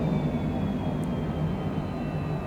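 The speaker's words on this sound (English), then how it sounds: "We got a nice, smooth, stable takeoff." An airliner climbs out after takeoff from Dublin, bound for Halifax, heard from inside as a steady, even engine drone and cabin rumble with no voices.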